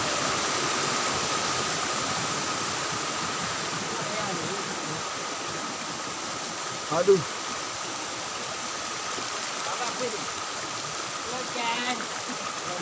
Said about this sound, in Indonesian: Kita lewati tepian sungai.